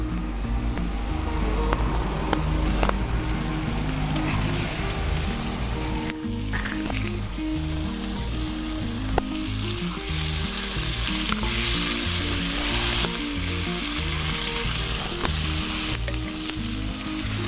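Chicken pieces fry in a hot pan for a Bengali chicken kosha, with a dense, continuous sizzle and occasional stirring rustles, loud and close, holding steady for about seventeen seconds.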